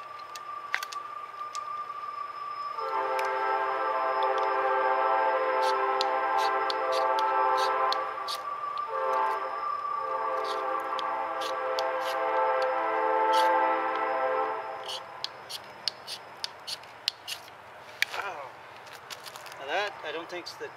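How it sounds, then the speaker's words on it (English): A train passes, sounding a loud, sustained horn for about twelve seconds, with one brief break. The rumble of the cars and crackling follow in wet, icy weather. "Train right on time."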